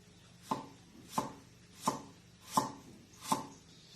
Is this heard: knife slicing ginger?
yes